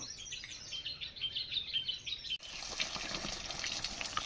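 Irrigation water flows into a field: birds chirp at first, then a steady broadband rush of running water takes over and continues without talk.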